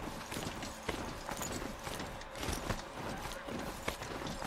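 Hooves clip-clop in a quick, steady galloping rhythm as a horse mount runs in the video game Horizon Zero Dawn, moderately loud over a soft game ambience.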